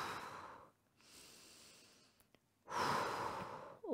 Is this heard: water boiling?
no